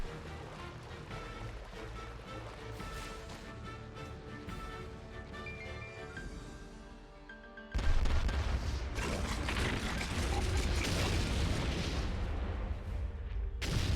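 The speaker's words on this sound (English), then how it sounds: "Cannons are ready to fire." Cannon fire and explosions in the video game Age of Calamity: a rumbling mix of booms and battle noise, swelling into a dense, loud barrage of blasts partway through.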